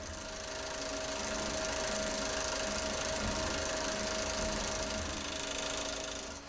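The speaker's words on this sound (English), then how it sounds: "The Tapmatic TapWriter easily marks flat, round, or uneven surfaces." A Tapmatic TapWriter rapidly hammers dots into a metal surface, making a continuous, even mechanical buzz with a steady whining tone throughout, close and with no talking.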